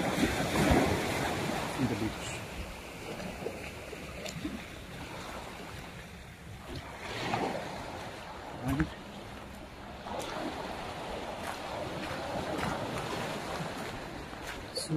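Ocean waves wash onto a beach at Shinas, Oman, in a steady broadband surge with gusts of wind noise. A voice talks over the surf throughout.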